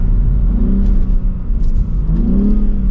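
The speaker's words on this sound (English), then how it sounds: "as I slow down here, it'll take its time shifting" A 2023 BMW M4 Competition Convertible xDrive engine drones loudly up close, its pitch sliding down and then rising again as the gearbox downshifts while the car slows.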